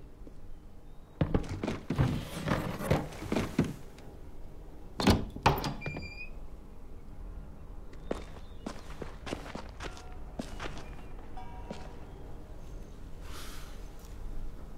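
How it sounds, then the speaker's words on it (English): A door in The Walking Dead video game is worked open amid shuffling footsteps, with a cluster of clunks and thuds followed by a sharp metallic clank and scattered softer knocks, close and fairly quiet. "I'll get the door open."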